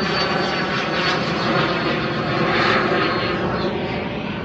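A fixed-wing airplane passes overhead near an airport beside a road, its engine a loud, steady roar that swells slightly and holds throughout with no talking.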